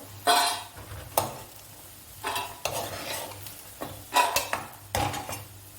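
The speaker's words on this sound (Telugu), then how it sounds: "ఇప్పుడు వీటిని అన్నింటినీ ఒక వేరే బౌల్లో తీసేసుకుందాము" Fried meal maker soya chunks scooped out of a frying pan into another bowl, bursts of metal spoon scraping and clinking against the pan and bowl, with faint sizzling between strokes, close by.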